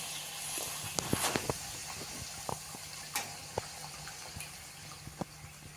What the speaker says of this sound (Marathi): आता आपण पुऱ्या तळून घेऊया